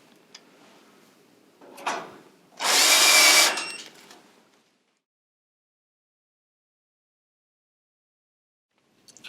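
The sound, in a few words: power drill driving sheet metal screws into boiler panel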